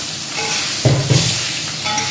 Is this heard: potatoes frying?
yes